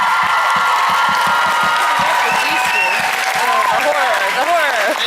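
Convention panel audience at NJcon 2016 breaks into applause with dense clapping, cheers and whoops, loud and sustained while voices call out over it.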